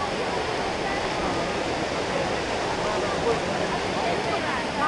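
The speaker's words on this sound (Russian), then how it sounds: "Фонтан очень знаменитый" Steady broadband rush of water from the Trevi Fountain in a crowded Rome square, a continuous loud splashing wash without pauses.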